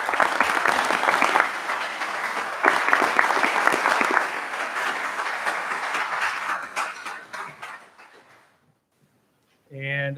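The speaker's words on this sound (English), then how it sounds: "I'd like to start with a round of applause for all of you" Applause from an audience at a county board of supervisors meeting, a dense steady clapping that runs about eight seconds before tapering off to silence, followed by a short burst of talk at the end.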